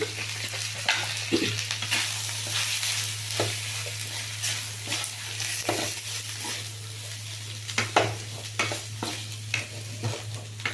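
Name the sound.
frying spices with coriander powder in a pan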